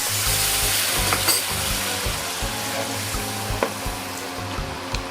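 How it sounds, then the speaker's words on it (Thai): Soup stock poured into a hot pan of keto stir-fried pork with celery and black pepper, a close, steady sizzling and bubbling with faint scrapes of stirring. "ใส่น้ำซุปลงไปนะคะ"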